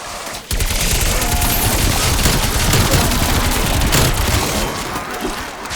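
Sustained automatic weapon fire from a Call of Duty Cold War zombies match on the Die Maschine map, a dense, loud, continuous rattle of rapid shots lasting several seconds with a brief gap near the start.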